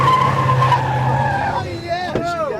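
A skid car with extra wheels and no ABS slides across a skid pad at a racing school, its tires squealing loudly and continuously over steady engine noise, with a wavering squeal toward the end.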